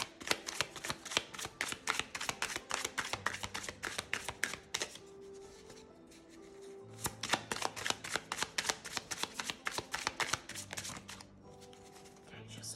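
Tarot cards are shuffled in a brisk, steady riffle of crisp slaps and flutters, close and clear, pausing briefly midway before resuming, with faint background music underneath.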